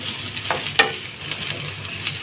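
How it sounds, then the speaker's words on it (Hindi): Potatoes for sabudana khichdi fry on a medium flame while being stirred, a continuous sizzle broken by a few sharp scrapes of the spoon against the pan. "आलू को अच्छे से फ्राई करेंगे, चला चला के फ्राई करना है"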